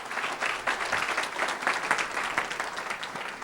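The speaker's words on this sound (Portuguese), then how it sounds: "Queria chamar a professora Heloísa Leite, uma salva de palmas para ela, outra palestrante." Audience applause for a professor called up as a speaker at a talk on ecological spirituality and ethics, moderately quiet, steady clapping from a seated crowd.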